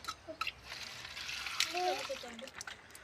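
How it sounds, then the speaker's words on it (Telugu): Dried fish are rinsed by hand in water to wash out sand, giving quiet, intermittent sloshes and trickles close by, with a low voice in the background. "ఇప్పుడు ఈ నెత్తల్లో ఇసుకుంటుంది కాబట్టి శుభ్రంగా కడుగుదాం"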